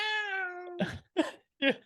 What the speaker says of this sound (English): Is there a cat in here?